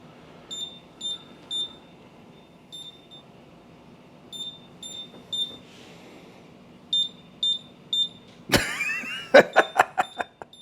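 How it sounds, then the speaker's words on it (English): A label printer gives repeated short, high electronic beeps in small clusters, then whirs and clatters briefly while feeding labels, with a few sharp clicks at the end; fairly quiet room, no talking. "Can you hear the printer right now?"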